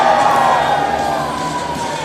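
Crowd at a ski and snowboard streetstyle finals cheering loudly and continuously, a dense roar of whoops and shouts that slowly fades.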